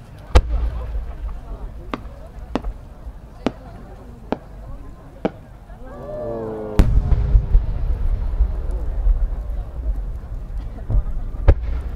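Fireworks by Hibikiya Omagari Enka burst at the 2019 Omagari fireworks festival in Akita, a string of sharp, evenly spaced booms followed by a rising whistle and a denser, louder cascade of blasts.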